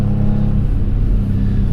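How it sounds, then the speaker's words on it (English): A Kia Stinger GTS accelerating hard produces a close, loud, deep engine rumble that holds steady throughout, with no talking. "Oh, as always, the car just takes off."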